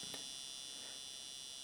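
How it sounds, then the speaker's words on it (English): Electrical buzz from the lights of an X2 Toys BG-A2 Big Computer (Teletraan 1) toy, a faint, steady high-pitched hum that holds constant throughout, with no talking. "that is the buzz coming from just the lights being on"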